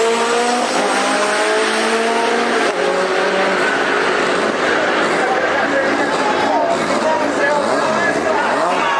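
A race car at a drag track in a nitrous versus turbo V8 street-race setting roars continuously with loud engine and tire noise while spectators chatter over it.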